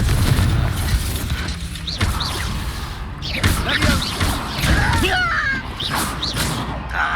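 A Confringo blasting spell explodes during combat in the Hogwarts Legacy video game, a loud booming burst amid a busy mix of other spell effects, thumps and crashes with game voices shouting over it.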